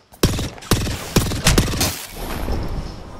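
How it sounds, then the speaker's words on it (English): Knuckle Cluster grenade firing in the shooter Apex Legends, four loud, evenly spaced explosive pops close by, trailing into a rumbling wash of blast noise. "Knuckle cluster's firing."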